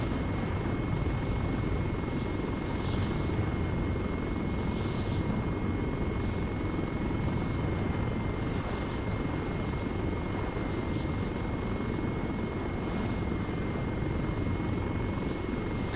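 Helicopter rotors and engines from the video game Arma, a steady continuous drone that stays loud and even throughout with no voices.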